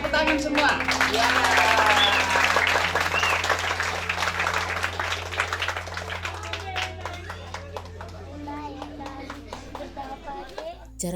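A group of children applauds at a community gathering, the clapping swelling loud and dense at first, then tapering into sparse, uneven claps as people talk and young voices chatter over it.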